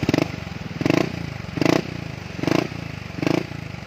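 A Yamaha X-Max scooter with an original racing exhaust is revved at a workshop. Five sharp throttle blips come at roughly even intervals over a steady idle, close and loud, with no talk.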